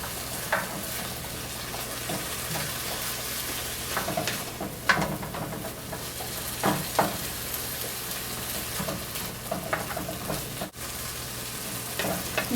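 Chicken sizzles and fries in a pan while being stirred for fried rice, a constant crackling hiss broken by irregular scraping and clattering of the utensil against the pan.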